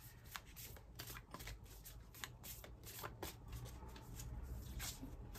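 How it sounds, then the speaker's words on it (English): Moonology oracle deck cards shuffled by hand, close up, in a steady run of soft riffling bursts and slides with no talking. "Let's see if I can shuffle it this way."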